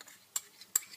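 A spoon scrapes twice through chicken jollof sauce in a pot. The two short, crisp stirring strokes are close and sharp, with near silence between them.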